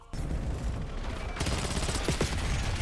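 Dense, continuous automatic gunfire from a Black Ops 7 match fills the clip as a loud, sustained burst of rapid shots, with a brief spoken remark underneath.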